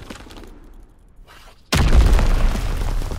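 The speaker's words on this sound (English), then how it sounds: "Sending mortar rounds." A mortar round explosion in Call of Duty WWII erupts suddenly after a quiet stretch, a loud booming blast that rumbles on with debris and crackle to the end.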